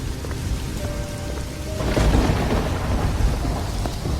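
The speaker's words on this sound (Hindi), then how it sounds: "में बहुत जोरों से बारिश शुरू हो जाती है।" Heavy rain pours down at night in a storm, a dense steady hiss joined by a deep rolling rumble of thunder that swells midway and lingers, with no voices.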